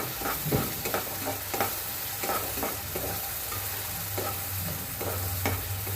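Close, steady sizzling of a ginger, garlic, coconut, coriander and green chili paste sautéed in a pan, with repeated scraping stirs of a spatula keeping a loose rhythm throughout.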